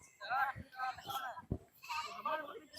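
A goat bleats several times in quick, wavering cries, close and clear, while people talk over and between the calls.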